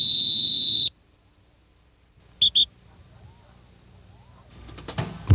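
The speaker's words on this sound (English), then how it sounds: "Now what was the little jewel whistle, a real quiet whistle?" A quiet dog training whistle used with Labrador retrievers gives a sustained shrill tone, then after a pause two short chirped blasts, with faint outdoor background and a rising rustle at the end.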